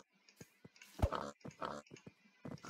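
Pigs in the video game Minecraft grunt and oink in several short bursts over about three seconds, fairly quiet and closely spaced, with no speech over them.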